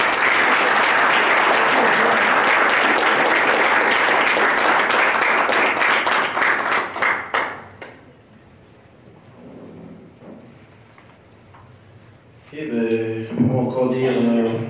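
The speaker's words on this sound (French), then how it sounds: "Et encore un tonnerre d'applaudissements pour le ministre Shaw" A large audience applauds after speeches at a public debate event, loud dense clapping sustained for about seven seconds before fading out, followed by a quieter stretch and then a voice speaking.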